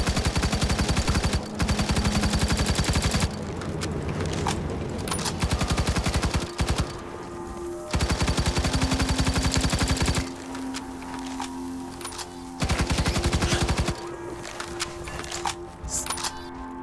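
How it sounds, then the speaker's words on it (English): Rapid automatic assault rifle fire from the Firefall video game, loud and close, in several long sustained bursts separated by short pauses, with game ambience and a faint hum between them. "This is an assault rifle."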